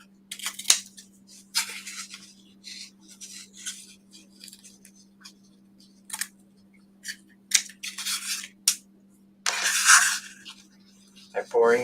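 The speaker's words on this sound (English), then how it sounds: "get the little miter tool. Snip your corners." Snips from a small miter tool trimming the corners of an assemblage journal kit cover, several crisp cuts spread through the span over a steady low electrical hum, with a few scattered handling noises.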